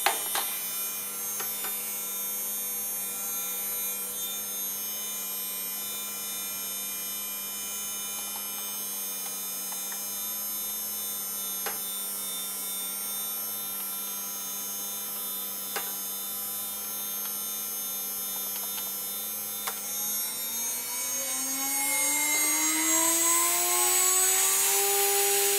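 A 2.2kW Chinese spindle motor driven by a Hitachi X200 VFD hums steadily with a high electrical whine, then ramps up in pitch near the end as speed rises toward 24,000 rpm, loud and close with no talking.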